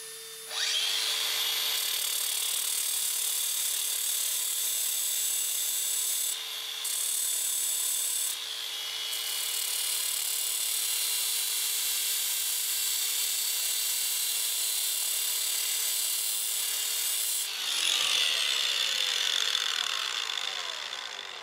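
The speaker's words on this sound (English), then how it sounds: "use the grinder to just shave a tiny amount off this spline so it pushes into that tight" A grinder shaves metal off a race propeller spline: a steady, loud high-pitched whine runs for about twenty seconds with brief dips, then shifts and winds down near the end.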